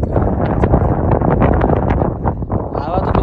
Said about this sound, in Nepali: हावा त बेसरी लागिरहेको छ